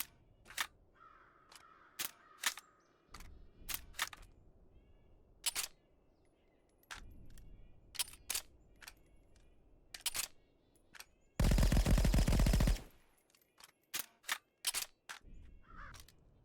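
VSS rifle in the game Contractors, reloading and firing: a string of sharp clicks and clacks of magazine handling spaced through the stretch, then a loud sustained burst of fire, followed by more crisp mechanical clicks.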